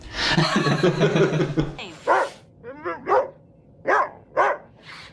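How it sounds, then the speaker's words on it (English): Dog barking from an episode of Star Trek Prodigy, a sharp run of five or six close, loud barks in an uneven rhythm, following a brief burst of busy music and sound effects at the start. "I think Murph is the goodest dog."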